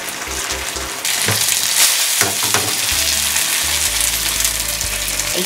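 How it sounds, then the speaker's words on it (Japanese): Loud, crackling sizzle of gyoza dumplings frying in a hot pan over high heat, rising sharply after a second, with scattered pops and a low background hum. "強火で一気に焼き上げます"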